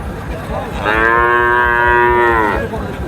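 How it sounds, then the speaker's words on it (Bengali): A single loud, drawn-out moo from a Sahiwal cross cow lasting about two seconds, close by at a cattle market in Naogaon, rising from a quiet background of faint ambient noise. "গাভিটা শাহিওয়াল হালকা কিছু ক্রস রয়েছে"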